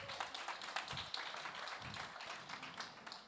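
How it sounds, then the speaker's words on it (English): An audience at a book launch event applauds, producing a soft, continuous patter of many hands clapping that is faint and distant throughout. "let's give Dottie a round of applause"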